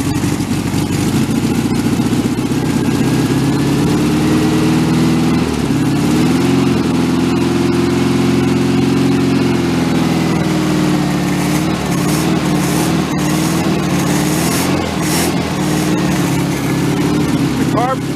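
A 1974 VW Karmann Ghia engine runs continuously just after its first start, close and loud, with a steady rumble and audible changes in speed as the throttle varies.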